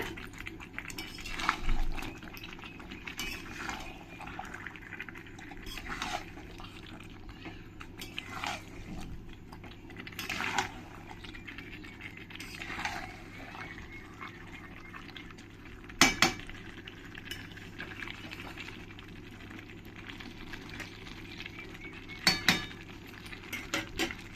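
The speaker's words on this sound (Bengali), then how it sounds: "চিকেনটা দিয়ে ভালো করে মশলার সঙ্গে মিশিয়ে নিতে হবে" Chicken is stirred and mixed with spices in a metal pan, giving soft scraping strokes and scattered utensil clinks at an unhurried pace. Two sharper clanks stand out over a low, steady background hum.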